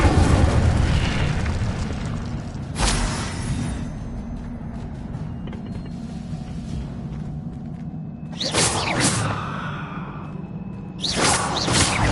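Incendio fire spell blasts in the Hogwarts Legacy video game burst out with whooshing, fiery booms, one early, then two stronger blasts later, over a rumbling background of combat effects.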